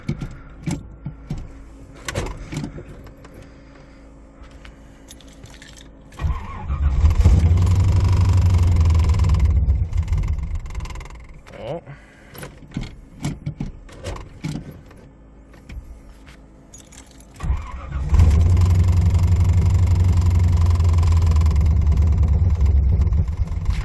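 Buick Skylark race engine cold-started after sitting about two weeks: cranking and key sounds, then two loud bursts of running engine roar, each settling and cutting back to quieter clatter.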